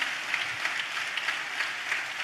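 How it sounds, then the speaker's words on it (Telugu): A church congregation claps in rhythm while praising, a dense wash of many hands beating in steady pulses that fills the room at moderate loudness, with no clear speech. "చప్పట్లు కొడుతూ స్తోత్రాలు చెప్తా"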